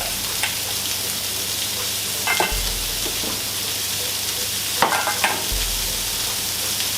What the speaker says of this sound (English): and you start frying up your veggies.